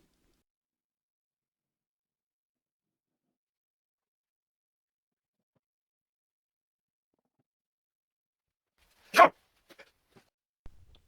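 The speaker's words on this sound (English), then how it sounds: "That was a sneeze." One short, abrupt sneeze bursts out after a long silence, followed by a few faint scattered clicks.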